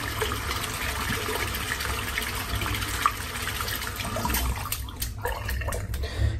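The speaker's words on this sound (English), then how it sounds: "So you just give it a good rinse out" Running water rinsing out an electric head shaver, a steady close rushing and splashing flow that holds for several seconds before a few brief disturbances near the end, with no talk.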